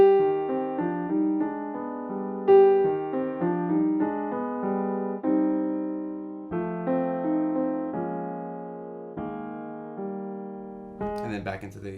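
A piano plays the second part of a song as a slow melody over chords with sustained notes, quiet and alone, ending in a brief rustle.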